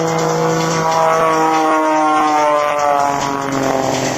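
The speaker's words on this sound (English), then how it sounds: "she flies the Cirrus Extra 300 backwards" Piston engine of an Extra 300 aerobatic airplane performing at an air force base open house air show, a steady droning propeller roar with harmonic tones, loud and continuous with no talk.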